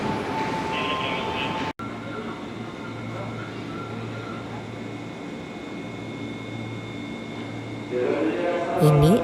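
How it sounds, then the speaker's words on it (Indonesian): Commuter line train noise at Manggarai transit station in South Jakarta, a steady rumbling drone with low hum and brief clatter near the end, under talk. "Ini adalah stasiun Manggarai, stasiun transit yang berada di Jakarta Selatan."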